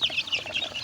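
A hen clucks on a farm with her chicks, giving a quick run of soft, close clucks and chirps in a burst of under a second.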